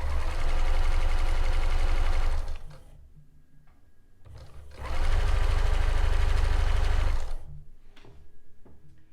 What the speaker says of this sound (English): So continue sewing across the front of your fabric here, and then I will pivot at the other corners